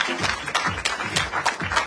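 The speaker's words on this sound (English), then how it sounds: "please give Mr. Wesley Matthews another round of applause" An audience at the inauguration event for an Indian jewelry store applauds steadily, a dense wash of many hands clapping with a slightly pulsing rhythm, fairly loud, with no talking over it.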